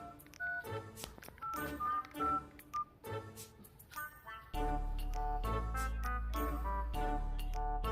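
A mobile phone is dialed, producing a quick series of short keypad beeps. Then comes a steady, louder tone like a ringing or connecting signal. No one speaks.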